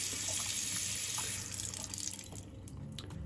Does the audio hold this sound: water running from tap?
yes